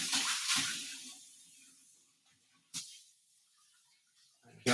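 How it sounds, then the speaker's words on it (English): Soapy hands are rinsed under a running kitchen tap, a close splashing rush of water that cuts off and returns in short bursts between quiet gaps. "give me a second, please, to just that soap up and rinse my hands here"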